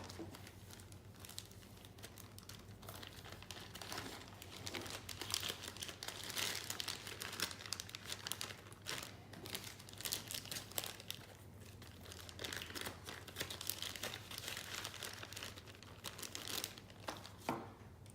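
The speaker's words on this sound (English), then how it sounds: "Then place the vials in the zippered portion of the biohazard bags." Plastic zippered biohazard specimen bags crinkle and rustle continuously as urine collection vials are slipped inside, close and fairly quiet, with crisp crackles scattered throughout.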